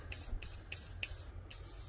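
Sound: spraying lubricating oil

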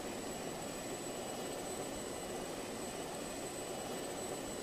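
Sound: airplane engine flying in video game Just Cause 2

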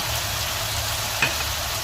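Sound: onions sautéing in a pan

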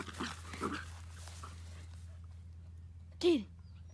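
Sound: dog whimpering

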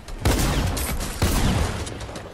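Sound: shotgun fire in Fortnite video game

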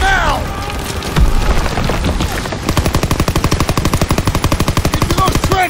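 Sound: suppressive gunfire in Call of Duty WW2 video game

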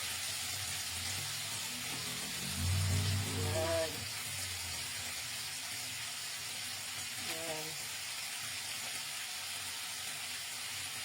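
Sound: food frying in its own oil

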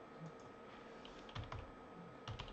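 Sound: typing a folder path on a computer keyboard

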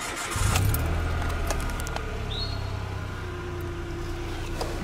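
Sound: car engine starting

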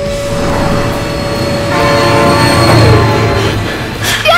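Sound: train passing and horn in the video game BeamNG

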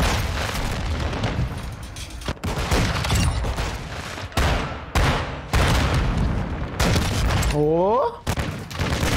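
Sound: gunfire in a video game

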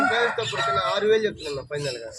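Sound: Aseel rooster crowing

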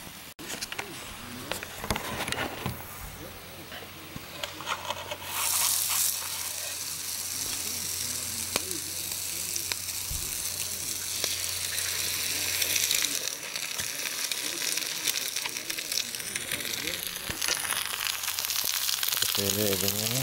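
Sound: egg frying in a pan on a small adjustable stove

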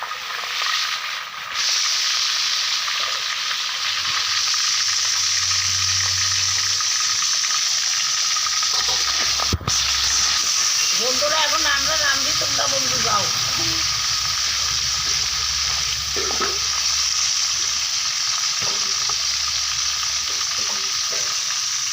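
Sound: fish frying in oil

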